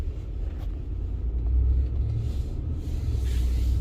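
A 2015 Ford F150 5.0 on 285/70R17 Americus Rugged MT mud tires rolls slowly, giving a low, steady engine and road rumble that swells slightly midway, with no voices.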